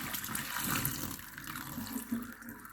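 Running water splashes steadily while sprouting legumes are rinsed and shaken in it by a person wearing gloves, a constant close hiss and slosh with small splashy bumps and no talking.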